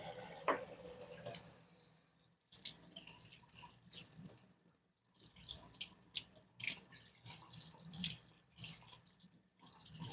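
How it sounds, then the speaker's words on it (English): Warm water runs and splashes as it fills an ultrasonic cleaner's tank, with uneven trickling and a few louder bursts and drips, fairly quiet and close, with no talking. "In your ultrasonic cleaner, you fill this with some warm water."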